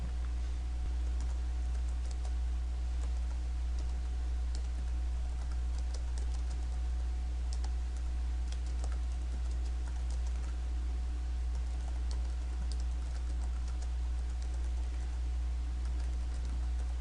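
Steady keyboard typing clicks over a constant low electrical hum, close and moderately quiet, with no voices.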